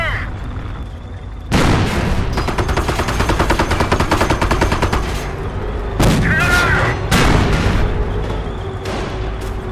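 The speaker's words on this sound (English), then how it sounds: "Fire main cannon." Heavy tank cannon booms and rapid machine-gun bursts rattle loudly and continuously in the World War II strategy game Company of Heroes, with sharp blasts punctuating a dense barrage of combat.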